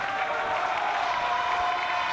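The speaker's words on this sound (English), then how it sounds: "Big cheer there from the Dutchman." A crowd at the European Para Table Tennis Championships cheers and applauds in a steady, dense wash of claps and voices that holds at an even level throughout.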